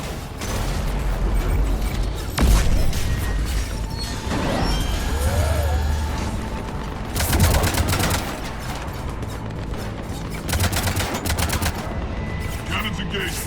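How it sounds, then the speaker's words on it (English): Mass Effect combat scene with cannons firing, heavy rapid bursts of booming shots coming in several waves over continuous gunfire and game sounds, with in-game voices speaking between volleys. "Cannons engaged."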